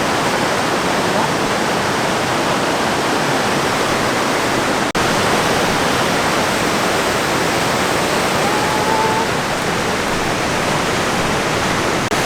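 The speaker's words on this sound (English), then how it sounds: "the river gets just bigger and bigger. This is huge compared to last time." A swollen, much-enlarged river rushes past in a loud, steady broadband roar, close and unbroken for the whole stretch, with no voices over it.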